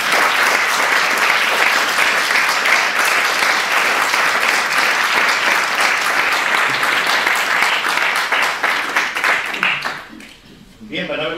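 Big, sustained applause from an audience at a theatrical event, dense and loud clapping filling the room for about ten seconds before dropping off abruptly.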